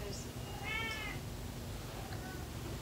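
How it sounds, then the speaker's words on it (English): A pet cat meows indoors, with a clear drawn-out meow followed by a fainter, shorter one a moment later, both quiet against the room's background hum. "He's just meowing away like I'm not trying to film a video or anything"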